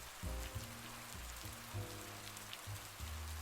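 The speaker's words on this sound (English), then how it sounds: "As the rain poured and streamed down the arch window panes" Rain pours and streams steadily down arched window panes, a soft continuous patter layered over low, sustained droning tones.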